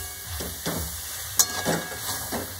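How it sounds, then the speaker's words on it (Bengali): Jujube fruit sautés in a pan for pickle, with no water added, giving a soft steady sizzle broken by several scraping stirs of the spatula, close and fairly quiet. "আমার কুলটাকে ভালোভাবে কষানো হয়ে গেছে"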